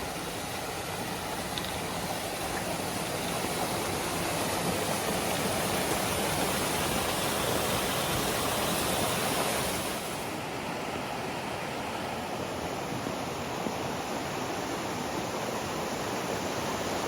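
Bear Creek rushes steadily along the Pacific Crest Trail, a dense, continuous roar of flowing water heard close by with no pauses or voices throughout.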